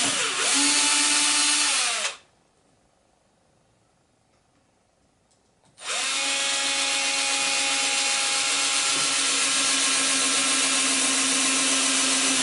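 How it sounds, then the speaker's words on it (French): Power drill boring two small holes into a wooden bowsprit of a small cutter under construction, loud steady whirring in two bursts separated by a few seconds of silence. "On va faire 2 petits trous."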